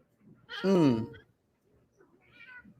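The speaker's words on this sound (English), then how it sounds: "I heard the cat." A cat gives one clear drawn-out meow up close, followed after a pause by a fainter, shorter call, with little else around it.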